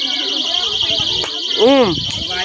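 An alarm buzzer sounds once near the end as a short, loud wavering tone, rising over a steady high ringing while people chatter in the background.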